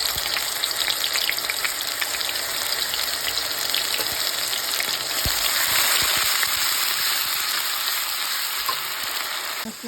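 Blended ginger, garlic and onion paste sizzles loudly in hot oil with bay leaf for an egg and potato curry, a dense continuous frying hiss with occasional stirring knocks.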